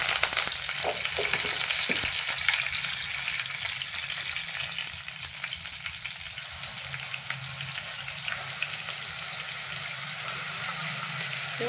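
Cumin and mustard seeds frying in oil in a pan, a steady loud sizzle with faint crackle running evenly throughout, no voices.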